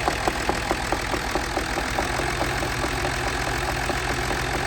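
A truck engine idles close by with a steady, even knock, a rhythmic low chugging that holds constant throughout.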